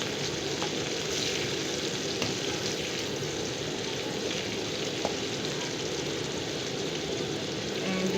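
Green chillies frying in oil in a village-style kitchen, a steady, even sizzle that holds at a moderate level throughout without breaks or voices.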